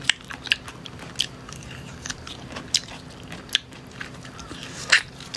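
Crisp crunchy biting and chewing of unripe, raw prickly fruit, with a string of sharp close bites spaced through the clip over a low steady background hum, no talk.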